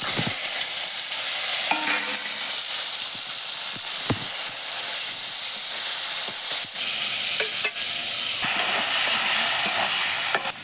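Black cumin and dried chillies tempering in hot oil, a loud, steady sizzle and hiss with occasional crackles and stirring clatter, continuous throughout with no talk.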